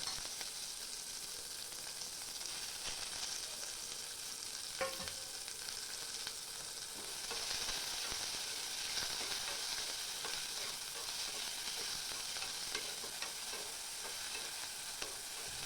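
Chopped onion, curry leaves and green chili sautéing in a pan: a continuous, even sizzle with occasional scrapes and stirs, moderately close and steady throughout.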